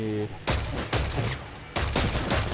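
A newly acquired pin-shooting machine gun fires in Dead Space 3, with three loud bursts of rapid shots in quick succession, each cutting off abruptly, and a brief tonal hum just before the first.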